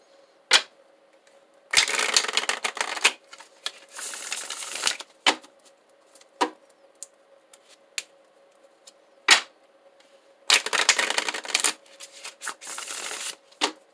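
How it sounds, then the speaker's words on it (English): Tarot cards are shuffled close by in several short riffling bursts, separated by quiet gaps with scattered light taps and clicks as the deck is handled. "Give it a shuffle."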